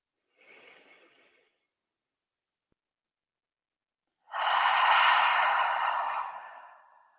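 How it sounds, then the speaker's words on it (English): A person takes a short, soft intake of breath followed after a pause by a long, audible exhale that swells and slowly fades, calm and close during a guided breathing exercise. "And then an audible exhale out, releasing the pressure in the abdomen."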